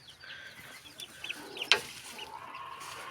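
Backyard chickens under stress give scattered clucks and squawks, with one sharp, louder squawk near the middle, amid a quiet rural background.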